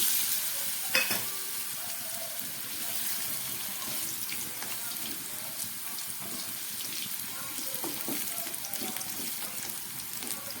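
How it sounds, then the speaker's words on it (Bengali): Potatoes frying in hot mustard oil in a kadai, a steady, moderately quiet crackling sizzle that continues throughout with occasional stirring clinks and no talking. "তেলটা গরম হয়ে গেছে, এবার এর মধ্যে আমি এই আলুটাকে ভেজে নেব।"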